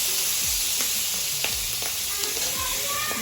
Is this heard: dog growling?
no